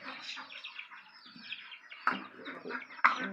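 Tiger breed chickens cluck and chatter softly close by in a coop, a busy overlapping run of short calls with two sharper squawks near the end.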